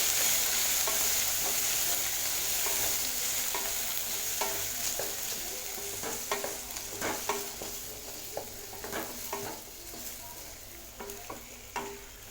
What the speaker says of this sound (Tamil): மீடியம் ஃப்ளேமில் வச்சு உருளைக்கிழங்கு நம்ம ஃப்ரை பண்ணிக்கலாம்.